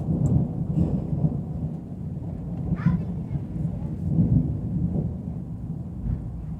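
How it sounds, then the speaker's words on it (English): Deep thunder rumbles low and continuously through a steady rainstorm, with a few faint voices murmuring underneath. "Still waiting for a crash of lightning."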